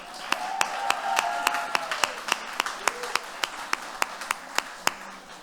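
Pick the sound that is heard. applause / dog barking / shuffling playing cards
applause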